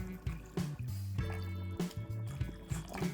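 Lukewarm water is poured into a powder mixture in a kitchen, giving soft trickles and small drips beneath background music.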